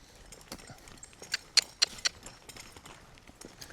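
A horse trotting out on a lunge line during groundwork with a young colt, its hoofbeats landing as a few soft, spaced clip-clop thuds that grow louder for a moment and then fade.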